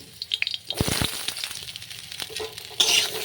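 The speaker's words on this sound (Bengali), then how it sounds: "এবার গরম তেলে আলুগুলো ভেজে নিলাম।" Sliced potatoes frying in hot oil for a Bengali fish curry with ridge gourd, a sizzling hiss broken by sharp clinks and stirring scrapes, close and moderately loud, with a brighter burst of sizzle near the end.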